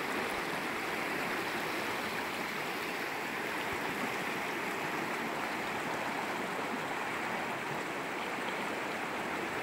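A high, swollen stream rushes steadily past fallen trees near a roadside, a dense unbroken wash of flowing water at moderate distance with no voices.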